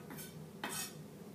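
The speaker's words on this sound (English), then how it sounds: "Clear our cutting board off a little bit." Food being scraped and cleared off a cutting board while guacamole is made, a couple of brief scraping swipes, the second one louder, close up with no talking.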